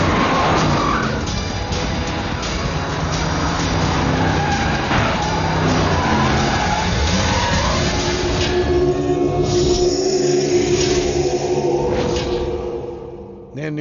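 A car pulls away and skids in a comedy film scene, with continuous engine roar and screeching tyres rising then fading, under voices and background music.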